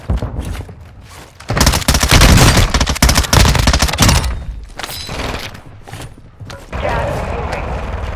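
Loud bursts of automatic gunfire and explosions in Call of Duty: Modern Warfare II combat, dense rapid volleys with thuds and shattering, broken by brief lulls, while voices call out over the fighting.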